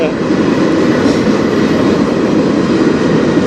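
A train passes on the Strathroy Subdivision, a loud, steady rumble of rolling wagons close by that holds without a break for the whole stretch.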